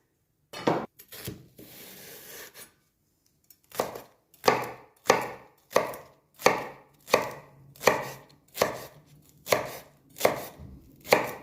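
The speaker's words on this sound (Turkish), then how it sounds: "Şöyle pırasalarımızı alalım. Hepsini doğrayalım." Rhythmic knife chops on a cutting board cutting leeks, about a dozen sharp evenly spaced strokes after a few irregular cuts, close and crisp.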